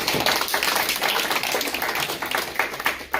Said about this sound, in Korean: 우리 하나님께 감사의 박수 드립니다.